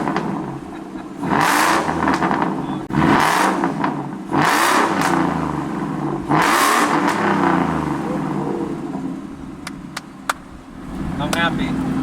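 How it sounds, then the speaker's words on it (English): Ford F150 with race cats, engine revved hard three times in a row, each rise and fall of exhaust roar loud and close, then settling to idle with clicks near the end; a voice talks over it. "so let's get some revs in."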